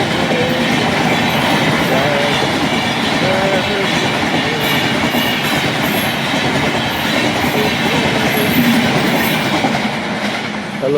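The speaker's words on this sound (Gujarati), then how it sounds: "સીટી વાગતી ગઈ છે ટ્રેન. ફાટક હવે ખુલી જાય." At a railway level crossing, a train passes close by with a loud, continuous rumble and rolling clatter for the whole stretch, with faint high tones near the top.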